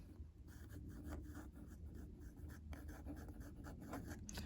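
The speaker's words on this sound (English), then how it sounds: "you can hear it's got that typical dip pen kind of sound" Faint scratchy rasp of a fountain pen nib dragging across paper in short continuous strokes, very close and quiet.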